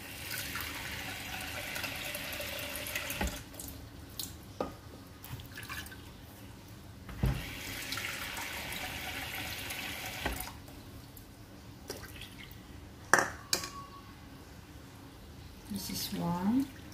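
Water is poured into a mixture while preparing kutsinta, a steamed rice cake made with lye water, with liquid splashing and dripping in a kitchen over several seconds amid handling noises.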